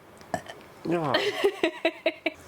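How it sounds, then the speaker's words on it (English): A voiced, rising burp-like sound with pitched harmonics, followed by a series of short, sharp clicks or hiccup-like bursts at a steady pace. "I can do a burp."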